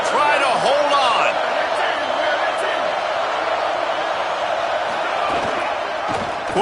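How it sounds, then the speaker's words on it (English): Stadium crowd at a Tennessee vs Georgia college football game, a loud sustained roar under a commentator's voice, with a sharp whistle-like cry and bursts of noise rising above the din. "This crowd even louder now on second down as they try to hold on."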